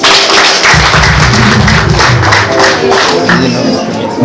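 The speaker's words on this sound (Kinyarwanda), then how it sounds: "abageni bacu basa neza tubakorera amashyi" Wedding guests applauding the bride and groom, a dense burst of loud, rapid clapping from a nearby crowd with a few cheers, holding steady throughout.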